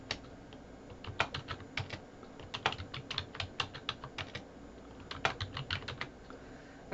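Someone types on a computer keyboard in quick irregular bursts of crisp key clicks, quiet and close, with brief pauses between runs and no talking.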